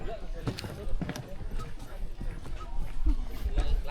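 Hooves of a horse pulling a kalesa carriage clip-clop unevenly on a flower farm, the hoofbeats mixed into a noisy outdoor background with steady rumbling.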